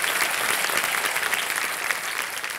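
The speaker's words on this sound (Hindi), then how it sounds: "तालियों के साथ इनका स्वागत किया जाए।" Sustained applause from the Kaun Banega Crorepati studio audience, loud and steady throughout with no break in the clapping.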